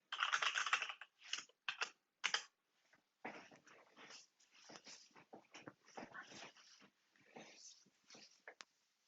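Computer keyboard typing, a login form filled in on a virtual dating simulator, heard as bursts of close, crisp key clicks in short runs with brief gaps, a louder flurry at the start, alone with no talk.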